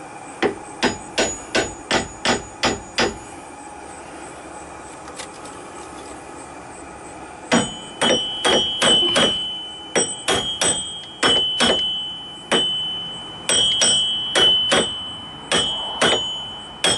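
A hammer taps a front wheel bearing into place on a 2003–2007 Saturn Ion, striking in quick metallic bursts of rapid blows separated by short pauses, loud and close over a faint engine hum.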